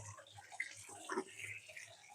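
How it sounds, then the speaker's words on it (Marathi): Crabs rinsed under a running kitchen tap give a quiet, steady splash of flowing water with brief louder gushes as they are turned in the stream. "त्याला वाहत्या पाण्याखाली मस्त त्याचे स्वच्छ धुवायचे"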